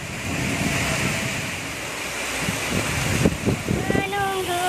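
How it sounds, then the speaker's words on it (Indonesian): Strong wind gusting through a village where ripe mangoes are dropping from the trees, a steady rushing roar with buffeting bursts on the microphone, while a voice speaks briefly toward the end. "Anginnya kenceng banget ya. Itu anginnya."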